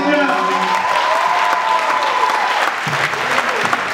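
A congregation at a Sunday youth church service bursts into sustained applause, dense clapping from a crowd that carries on for several seconds, with a voice ringing out over it at the start.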